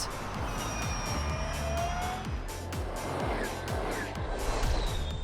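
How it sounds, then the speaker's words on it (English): A Formula E Gen3 EVO electric race car running on track at Madrid testing, with a steady whining drive note and tyre noise held at moderate distance under faint ambient sound. "Now it was time for the drivers to take the new Gen3 EVO out on track"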